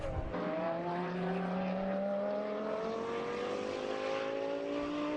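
GT race cars at the Navarra circuit in a Blancpain Endurance Series round, engines droning as they approach, with one sustained whining note climbing steadily in pitch across the whole stretch and no voices.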